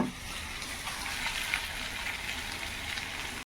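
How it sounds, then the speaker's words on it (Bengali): Rice frying in a pan gives a steady, close hiss and crackle that runs unbroken for a few seconds, then cuts off at the very end. "বন্ধুরা ভাত ভেজে নিচ্ছি"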